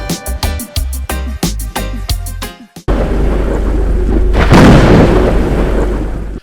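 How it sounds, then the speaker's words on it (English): Playful rhythmic thumps end abruptly, then a confetti machine fires with a loud, sustained roaring blast of noise that swells and lingers for several seconds. "It's time to celebrate! Hylas, fire up the old confetti machine!"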